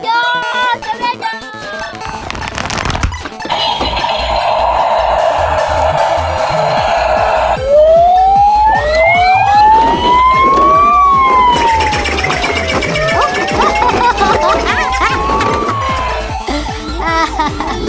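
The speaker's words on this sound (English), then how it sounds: "Police car!" A toy police car siren wails loudly and continuously, its rising and falling electronic tone sweeping up and down close by for a long stretch, with a brief voice at the start.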